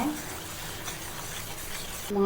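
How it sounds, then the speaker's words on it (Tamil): Rice flour being stirred into cooking dough in a pan for modak kozhukattai, a brisk scraping and soft sizzling churn that runs steadily before cutting off, with no one talking. "இந்த டைமில் நம்ம 1 கப் அளவுக்கு பச்சரிசி மாவு அப்படியே கை விடாத அப்படியே கலந்துக்கோங்க"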